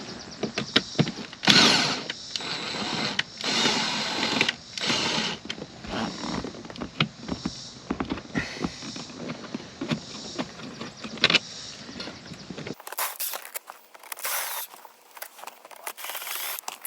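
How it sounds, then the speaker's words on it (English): Four screws being removed from a boat speaker grill with a power driver, a close, continuous whirring and buzzing with short stops and restarts, ending in a brighter, thinner whine. "We just need to get these 4 screws out"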